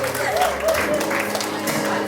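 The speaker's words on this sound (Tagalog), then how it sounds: "bigyan natin naman ang kasang palakpakan" Guests applaud at a debutante's eighteenth birthday party, a dense ongoing round of clapping heard while an announcer's voice carries over it.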